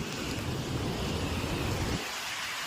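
A strong windstorm rushes through guava and jamun trees on a Punjab farm, a loud continuous roar of gusting wind and thrashing leaves that drops off sharply near the end.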